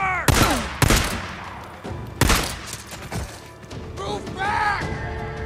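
Gunfire in the zombie-survival video game Days Gone, with several sharp broadband shots and short bursts ringing out loud and close, a busy fight with voices talking over the shooting.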